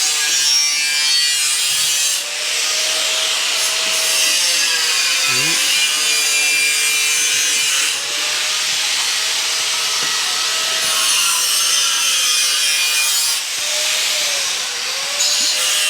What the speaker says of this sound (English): Sorry about the noise of the grinder, guys.